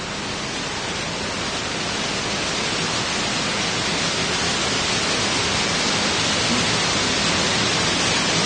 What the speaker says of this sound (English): And that is what a physicist would call white noise. It's completely random.